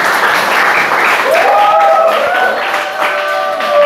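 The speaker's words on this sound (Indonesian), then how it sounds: "Kasih tepuk tangan teman-teman." Students at an Islamic study program in Lamongan give sustained, dense applause, loud and steady throughout, with a faint voice briefly rising over the clapping.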